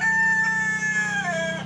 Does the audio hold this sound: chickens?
yes